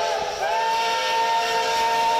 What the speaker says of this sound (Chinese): 这辆被称为蒸汽机车女王的 CT273 已经80岁了